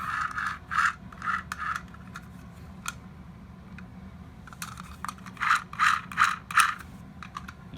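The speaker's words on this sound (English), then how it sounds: "Yeah, that's just the gears." A toy robot's gearbox grinds and ratchets in short, close bursts: three quick ones early, then a denser run of four or five, with quiet pauses between.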